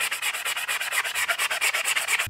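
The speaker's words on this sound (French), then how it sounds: "je prends l'éponge et il faut que je frotte sur la chaussure" A sponge scrubs a dirty white sneaker in fast, even back-and-forth rubbing strokes, close and moderately loud with no voices.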